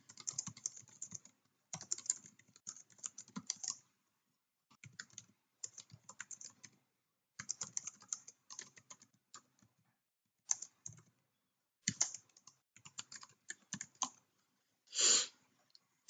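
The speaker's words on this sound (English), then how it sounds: "So you type in a paragraph." Bursts of rapid typing on a computer keyboard as a paragraph is entered, steady clatter broken by short pauses, close and moderately loud with no talking.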